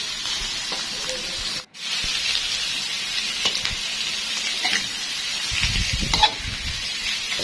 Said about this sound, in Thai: รอดใจเย็นนิดหน่อยนะพี่น้องน้ำมันมันเดือด นะครับน้ำมันเริ่มบอกแล้ว